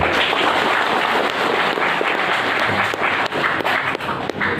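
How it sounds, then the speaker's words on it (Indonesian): An audience at a training session for PKB party council members gives a full, dense round of clapping. The applause is loud and continuous throughout, with a few sharper claps standing out near the end. "Kita kasih tepuk tangan dulu."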